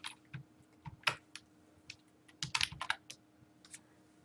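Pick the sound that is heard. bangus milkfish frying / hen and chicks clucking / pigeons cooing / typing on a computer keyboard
typing on a computer keyboard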